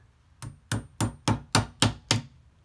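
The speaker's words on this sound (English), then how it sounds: "I'm going to put it in the vise and knock it out with a hammer." A hammer strikes a punch seven times to drive a pin out of a windshield wiper part from a 1983-1991 Mitsubishi Montero held in a vise: sharp, evenly spaced metallic blows, loud and close, with no talk.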